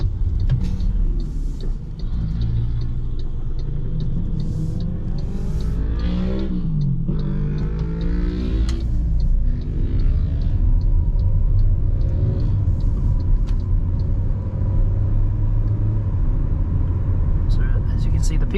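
MG ZS compact SUV with a 4-speed automatic driving on a road, a constant low engine rumble and road roar heard from inside the cabin, with someone talking over it throughout.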